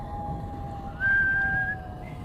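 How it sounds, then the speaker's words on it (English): A person whistles in a folk mystery audio drama as a nervous character approaches a fearful tree: one thin, steady whistled tone held for about a second over quiet background hiss. "As Ichabod approached this fearful tree, he began to whistle."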